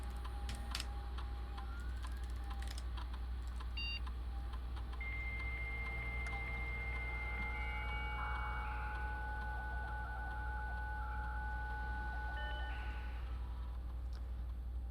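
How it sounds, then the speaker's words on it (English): A dial-up modem setup sound plays in a video game, a series of steady electronic tones and warbling beeps that shift in pitch over a constant low hum, with no talking. "This was dial-up setup."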